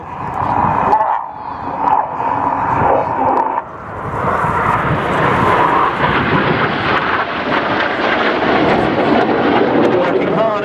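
A Red Arrows RAF jet rolls repeatedly during an aerobatic display at an air show, a loud, continuous roaring engine rumble that swells and shifts in pitch, heard close and broad across the whole stretch.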